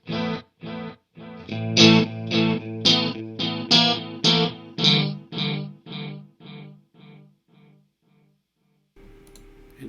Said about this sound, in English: Timeline Echo.